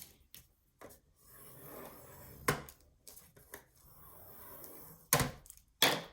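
Paper for a shaker mini album is scored with a tool, giving intermittent dry scraping strokes and sharp taps across several seconds, close and fairly quiet, with no one talking.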